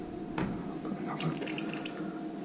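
Water splashes softly into a plant pot sown with Japanese cedar seeds during watering, a faint, close trickle and patter over steady background noise.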